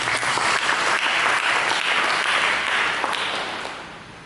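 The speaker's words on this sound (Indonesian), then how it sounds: "Berikan tepuk tangan bagi Yesus." A church congregation applauds during a sermon, a full, loud roar of many hands clapping that stays steady before gradually fading toward the end.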